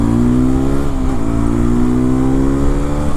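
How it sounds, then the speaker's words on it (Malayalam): A Hero XPulse 210 motorcycle's exhaust rumbles loud and close, its engine note holding a steady rev with a slight dip partway through, and no talking over it. "കേൾക്കാലോ എക്സോസ്റ്റ്, ബ്യൂട്ടിഫുൾ സൗണ്ട് എക്സോസ്റ്റ് ആണ് ഗൈസ്."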